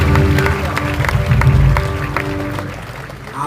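A crowd applauds at a church convention, welcoming newly named pastors: a dense, sustained wash of clapping with a faint background hum, fairly loud and steady before tapering off near the end.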